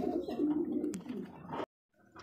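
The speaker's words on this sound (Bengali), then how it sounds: "প্রিয় দর্শক দেখতে পাচ্ছি এখানে রেসার কবুতর" Racer pigeons coo in a low, throaty run of calls, close and fairly soft, ending abruptly in a brief silence before faint sound resumes.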